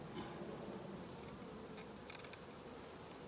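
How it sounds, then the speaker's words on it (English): A dense, steady hum of many agitated honeybees buzzing together in a hive after a queen excluder was dropped, faint and constant, with a few brief clicks near the end. "since I dropped that queen excluder, this hive is making noise now."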